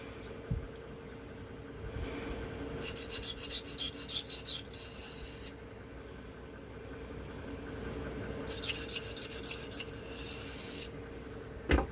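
A Remington Barlow pocketknife blade is drawn across a sharpening stone in two bursts of quick, rhythmic rasping strokes separated by quiet pauses. Each burst lasts a few seconds and is heard up close with no talk.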